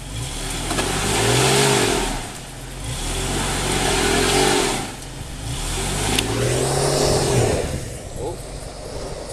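A car stuck on a Koke'e trail revs in repeated surges, gas then release, the engine climbing and falling in three loud rocking swells, with talk in the background.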